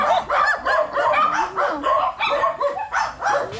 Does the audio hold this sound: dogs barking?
yes